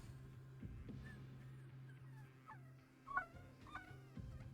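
Dogs whimpering quietly, a few short high whines and yips rising over a steady low hum, faint and close, with no talking.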